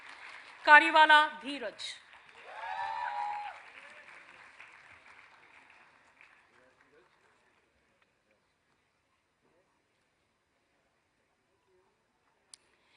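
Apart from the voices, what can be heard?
applause at a convocation ceremony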